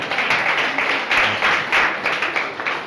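An audience at a career service center event claps together, a dense burst of applause with slight pulsing swells, moderately loud and steady throughout.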